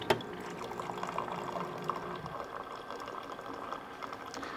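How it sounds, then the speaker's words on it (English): A bean-to-cup office coffee machine brews, giving off a faint, continuous bubbling and liquid-pouring hiss, with a small click at the very start and no talking. "it's gonna brew right into your cup"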